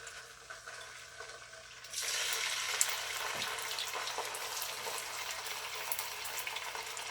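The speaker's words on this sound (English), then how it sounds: "We're going to fry the wings and we're going to fry the shrimp." Chicken wings and shrimp hit hot oil on a stove; a quiet room gives way after about two seconds to a bright, steady sizzle and crackle that continues to the end.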